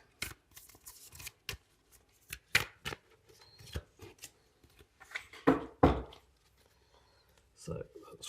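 A deck of tarot cards is handled, shuffled and dealt out in a row, giving scattered soft flicks, slaps and rustles of varying loudness, close and irregular, with quiet gaps between them.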